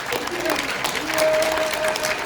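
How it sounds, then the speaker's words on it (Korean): An audience at a Korean founding ceremony in Ganghwa claps steadily and loudly for the whole stretch, a dense, even patter of applause with a thin tone running through it. "다시 한번 뜨거운 박수를 보내주시기 바랍니다"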